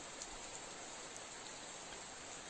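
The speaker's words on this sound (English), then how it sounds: "Now it is raining inside the forest." Rain falls through a forest as a faint, even wash of pattering drops, continuous and soft with no other sounds standing out.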